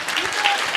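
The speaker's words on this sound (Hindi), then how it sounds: "तो मुझे ऐसे लग रहा है कि जो भी ताली बजा रहे हैं" Audience clapping at a business seminar, a dense continuous patter of many hands, heard under someone speaking to the crowd.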